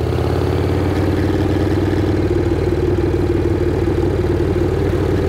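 A Harley Shovelhead motorcycle engine idles at night, a loud, steady low rumble held close and unbroken throughout.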